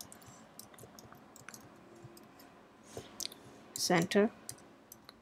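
Code being typed on a computer keyboard, soft scattered clicks close up under a person talking, with a couple of louder thumps near the end.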